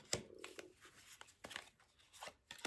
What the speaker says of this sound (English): I always cut the cards.